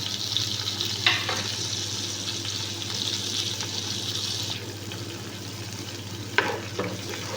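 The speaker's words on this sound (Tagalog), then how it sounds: "Ayan guys, haluin natin hanggang sa maluto ang shebet" Rice sherbet with dill cooking in a frying pot, a low continuous sizzle and bubbling under occasional scraping stirs of a utensil, close and moderately loud, with no voices.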